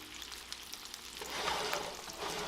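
A ribeye steak is flipped in a hot skillet, and the sizzle swells from a light crackle into louder, dense frying hiss with popping spatters, close by and without any talking.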